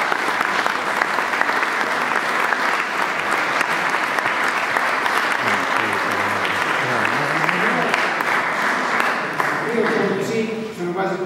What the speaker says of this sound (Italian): Quindi un altro applauso ci vorrà.